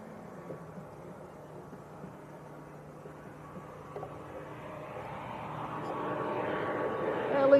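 An Aer Lingus airliner from Belfast approaches to land, its engine roar swelling steadily from faint to loud as it nears, with a low drone and background noise throughout.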